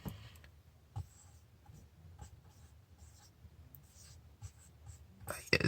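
Handwriting with the left hand, a pen scratching and tapping on paper in faint, uneven strokes, heard close with soft breathing and a louder rustle at the end.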